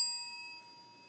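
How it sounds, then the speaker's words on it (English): A single bell, rung by a reader to mark a redacted passage during a live stage reading of the Mueller Report, gives one clear ding that rings out and fades quickly. "they will indicate so by ringing a bell"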